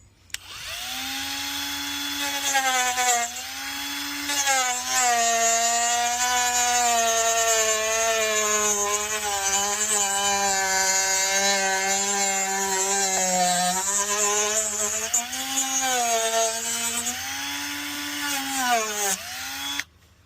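A power tool cuts open the plastic DRL headlight housing of a Tesla Model S. A loud, steady, close cutting whine runs for about twenty seconds, its pitch dipping and rising as the load changes.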